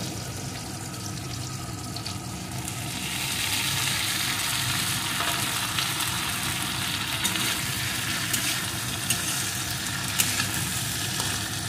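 Fried okra and potatoes stirred in a hot pan for a vegetarian okra curry, a steady loud sizzle that swells after a few seconds, with occasional scraping clicks.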